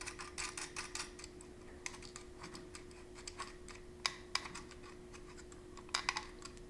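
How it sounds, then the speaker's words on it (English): A nut is screwed by hand onto a GPS SMA connector on a DataHub unit, giving soft, irregular ticks and small metallic clicks with a few sharper snaps, close and quiet over a steady background hum. "Screw the nut back in."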